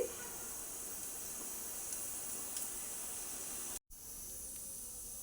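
A pressure cooker of rice on a nearby stove releases a steady, even hiss of steam that runs almost unbroken, with one brief cut of silence near the end.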